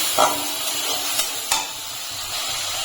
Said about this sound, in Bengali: জল দিয়ে মশলাটাকে আমি ভালো করে একটু কষিয়ে নেব।